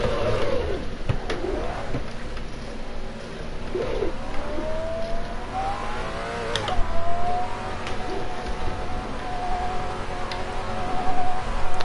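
In the Assetto Corsa racing game, a simulated Maserati engine revs and shifts through gears, rising and falling pitch sweeps repeating over several seconds, moderately loud with small ticking and mechanical sounds alongside.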